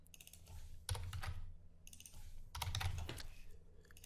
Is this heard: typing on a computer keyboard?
yes